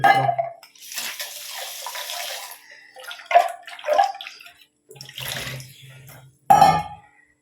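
Something is rinsed under running water from a tap, coming in splashing bursts separated by short pauses, close and fairly loud with no talk.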